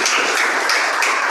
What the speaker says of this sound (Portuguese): Com muita alegria vamos dar um forte aplauso ao Senhor.